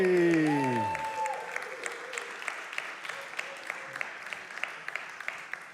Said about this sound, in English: Well, at least I got a round of applause for something